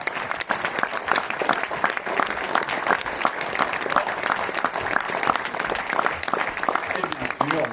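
Audience applause at a film premiere, a steady dense burst of clapping from a crowd filling the room, continuous and moderately loud for several seconds.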